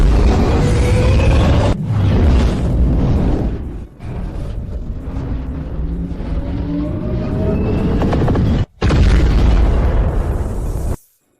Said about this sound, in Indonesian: Meriam utama mengisi daya dan menembak.